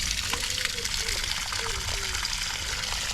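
Dirty water gushes and drains out of the opened back of a small, long-uncleaned pond filter, a close, continuous splashing rush with faint gurgles, while someone talks over it.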